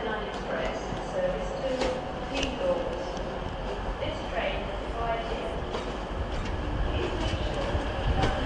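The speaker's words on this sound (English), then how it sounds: "1919 Transpennine Express service to Cleethorpes. This train has arrived here." A TransPennine Express Class 185 train sits at Manchester Piccadilly, its engine humming steadily beneath station bustle, with faint announcements and voices talking over the ongoing drone.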